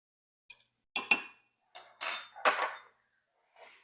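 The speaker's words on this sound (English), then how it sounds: "we're just gonna mix this into the flour" Utensil clinks and scrapes against a bowl as baking soda and baking powder are mixed into flour for an applesauce spice cake, several short bursts in an irregular rhythm, close and clear with no talk.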